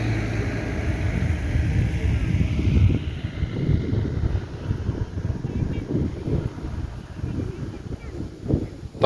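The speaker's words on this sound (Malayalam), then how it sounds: "നല്ല തണുത്ത കാറ്റടിക്കുന്നുണ്ട്" Cold wind gusts across a hilltop above a deep valley, a continuous low rumbling buffet on the microphone with a voice heard intermittently under the roar.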